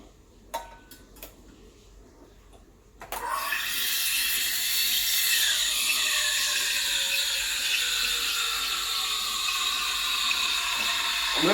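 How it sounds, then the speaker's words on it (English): A Sage Oracle BES980 espresso machine runs a cleaning cycle: a few light clicks and knocks, then a loud, steady rush of hissing water and steam starts abruptly and continues close by, with faint shifting whine under the spray. "I'm going to clean the machine for the meantime."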